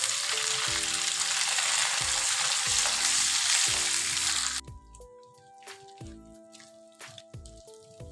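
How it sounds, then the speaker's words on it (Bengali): Koi fish frying lightly in mustard oil with nigella seeds: a loud, dense close-up sizzle with bubbling pops for several seconds, which then drops away abruptly to quieter dripping and crackling. "আমি কই মাছটাকে খুব বেশি ভাজবো না, হালকা সামান্য ভেজে নেবো"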